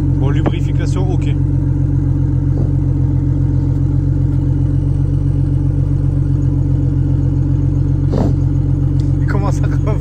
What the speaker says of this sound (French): J'ai jamais entendu un moteur aussi.